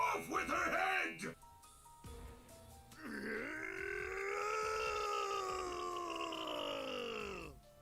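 A game character in Death end re;Quest lets out drawn-out anguished cries: a short burst of wailing, a brief lull, then one long sustained scream that fades out.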